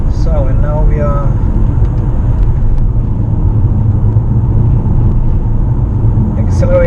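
Mitsubishi Outlander PHEV accelerating to 100 km/h, a steady low rumble of road and drivetrain noise from inside the cabin, with someone talking over it.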